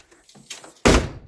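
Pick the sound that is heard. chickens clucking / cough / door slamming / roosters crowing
door slamming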